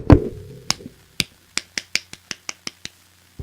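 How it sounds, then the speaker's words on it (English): A single person claps hands about ten times at an uneven, quickening pace, sharp close dry claps following a louder thump at the start, with no talking. "That was me clapping if you couldn't hear it correctly."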